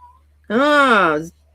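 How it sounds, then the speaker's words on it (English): A pet cat meows once outdoors, a single drawn-out, rising-and-falling cry lasting under a second, clear and fairly close over a low steady hum. "My cat's outside."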